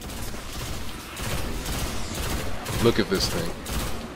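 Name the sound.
pulse rifle gunfire in Destiny video game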